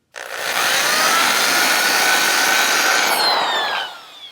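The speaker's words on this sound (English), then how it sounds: "Just a quick couple of strokes with the dingle ball hone just to remove burrs." Dingle ball hone working inside a bushing bore of a Harton engine part, one continuous loud, close metallic whirring rasp lasting several seconds before it tapers off.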